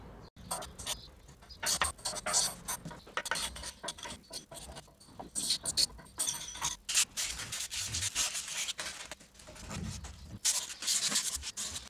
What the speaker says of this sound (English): scraping and sanding this thing